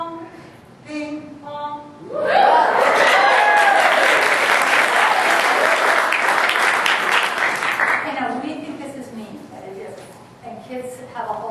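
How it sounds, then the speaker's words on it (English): An audience bursts into loud applause for an applause meter during a kids' performance judging session, swelling suddenly, holding for several seconds, then tapering as a voice speaks before and after. "Applause meter, over here, please."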